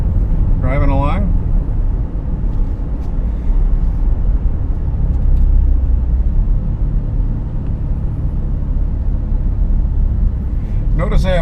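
An automatic Corvette Z06 cruising in drive, a steady low engine and road rumble from inside the cabin, with brief bits of someone talking at the start and end.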